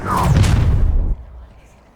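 An Incendio fire spell bursts out in Hogwarts Legacy gameplay with a loud whooshing, rumbling blast that holds for about a second, then drops off quickly into a fading tail.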